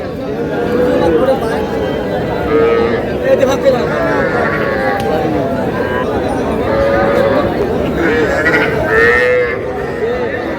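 Young bull calves low repeatedly at a busy cattle market, several drawn-out moos rising over a constant murmur of traders' voices and crowd chatter nearby.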